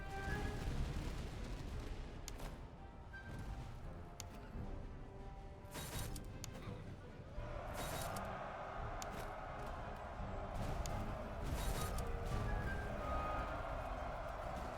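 Dragoons' musket volleys in the video game Master of Command, scattered distant booms and crackling shots over a steady rumbling battle din, fairly faint throughout.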